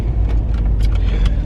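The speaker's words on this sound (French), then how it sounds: "Ah, vache, il y a de la circulation." Road traffic rolls past, a loud, steady low engine rumble of a car with tire noise, continuous and close throughout with faint higher ticks layered over it.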